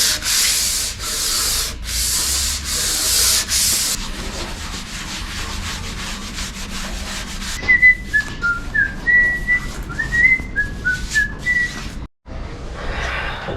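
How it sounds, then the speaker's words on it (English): Hand sanding of a dried coat inside a Sprinter van build, rhythmic scraping strokes up close, followed by a stretch of tuneful whistling over quieter rubbing. "And now I got to get back to sanding, because this is all dry and ready for another coat."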